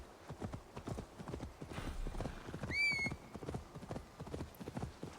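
Horse hooves clip-clopping steadily in the video game Assassin's Creed Valhalla, a brisk rhythmic trot with a short whinny midway, close and clear with no talk over it.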